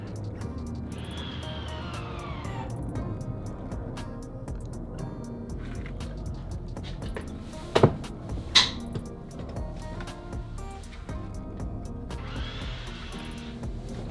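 A Land Rover Discovery 3 electronic parking brake engages with a whirring motor that rises in pitch, followed by two sharp clicks and a second motor whir, close over a low background hum.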